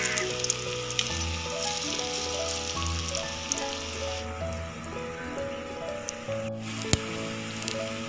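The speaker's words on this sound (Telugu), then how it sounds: "ఇప్పుడు వీటిని డీప్ ఫ్రై చేసుకుందాం ఇలా కాగిన నూనెలో విడివిడిగా ఒక్కొక్క ముక్క వేసుకొని ఫ్రై చేసుకోవాలండి" Raw banana manchurian pieces deep frying in hot oil, a steady close sizzle with crackling bubbles and occasional soft pops, with music playing underneath throughout.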